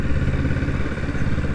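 A 2025 Kawasaki Z650 naked motorcycle runs under way around town during its break-in period, its engine a loud, steady, close drone with a rough, throbbing texture and no talk over it.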